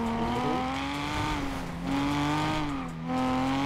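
Car engine in GTA 5 roleplay driving, a steady droning hum with shifting pitch as it revs and eases, tire noise underneath, loud and close throughout with no talk.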